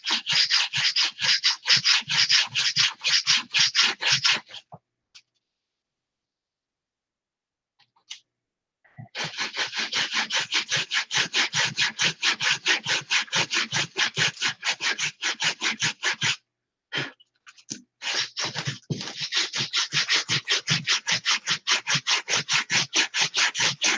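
A model stunt aircraft build is sanded by hand, rapid rhythmic rasping strokes close up and loud, in long runs broken by short pauses of silence.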